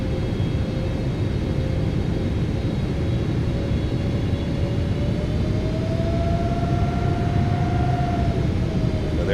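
A Boeing 777F freighter lands in the PMDG flight simulator, a continuous jet engine roar with a tone that slowly rises in pitch, steady and fairly loud with no voices.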